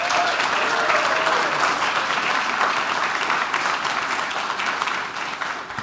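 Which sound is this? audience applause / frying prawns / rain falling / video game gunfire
audience applause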